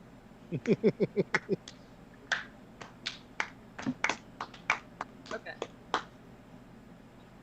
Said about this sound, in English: Nice little slow clap there.